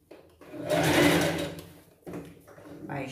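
Sewing machine stitching gathered fabric on a Cinderella-style pet costume dress, with one loud burst of whirring, a pause, then a shorter second run, someone speaking around it.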